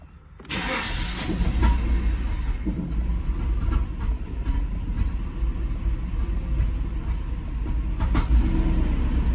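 A pickup truck engine runs after a Sea Foam fuel treatment, starting abruptly and holding a loud, steady idle with slight throttle rises, close to the microphone and without talk.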